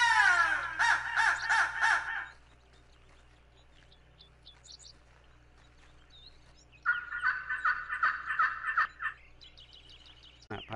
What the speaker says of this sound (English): crow calls.